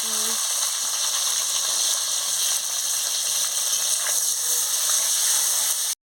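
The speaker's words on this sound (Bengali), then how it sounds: "আমি বেগুনগুলো দিয়ে দিচ্ছি বেগুনগুলো দিয়ে ভালো করে ভেজে নিচ্ছি" Eggplant pieces frying in hot oil in a pan for a Bengali eggplant curry, a loud, dense, continuous crackling sizzle that holds steady and then cuts off abruptly.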